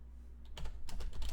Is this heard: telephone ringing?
no